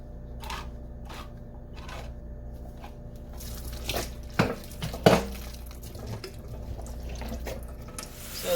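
Liquid from canned corn strained in a kitchen sink: a quiet trickle with scattered drips, light clinks of a strainer or pan, and a few louder splashes partway through.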